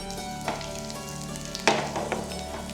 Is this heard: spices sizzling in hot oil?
yes